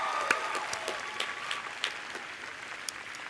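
Applause from the audience at a College of Agriculture commencement ceremony, a moderate, sustained patter of clapping that thins out toward the end, with a few sharper claps standing out.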